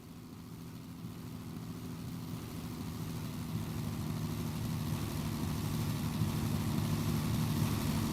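A P-51 fighter plane in the Roblox PTFS game flies over during an airshow. Its engine makes a steady, low drone that grows slowly louder, with no talk.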